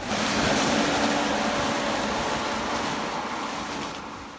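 A Sky Dancer inflatable's air blower runs right after being switched on, producing a loud, steady broadband rush of air that eases off slightly toward the end.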